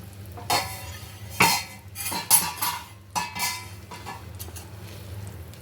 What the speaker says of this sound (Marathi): आपण झाकण काढून पाहूया